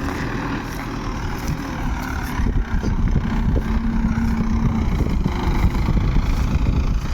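A tractor drives off in fifth gear pulling a Belen 335 plough with a skimmer across a field, a loud, steady low engine rumble that builds slightly as it moves away.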